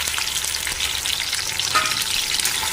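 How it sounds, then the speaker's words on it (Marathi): Curry leaves and tomato pulp frying in hot oil in a kadhai, a steady, dense sizzle with a faint stirring clink near the end, close and continuous without any talk. "अगोदर चार पाच आपण कडीपत्त्याची पानं टाकून घेऊया आणि मी टॅमॅटोची पिळी करून घेतलेली तर ती मस्तपैकी आपण तेलात भाजून घेऊया"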